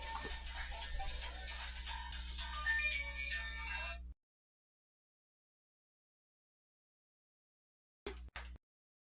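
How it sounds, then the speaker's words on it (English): A phone ringtone from an unwanted spam call plays loud and steady for about four seconds, then cuts to silence before two short clipped bursts of the ring return near the end. "why am I getting calls on every phone?"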